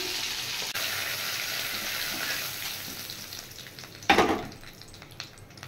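Fish frying in oil in a home-cooking pan: a broad, steady sizzle that fades gradually, then a sharp louder burst of crackling spatter near the end as something shifts in the oil.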